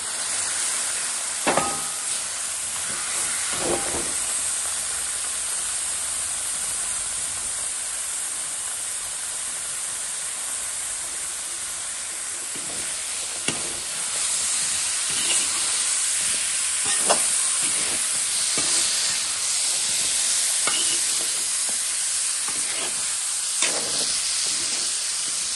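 Pork pieces hitting a hot pan of spice masala and frying for a pork fry, with a steady sizzling hiss throughout and occasional stirring clatters and scrapes, no talk.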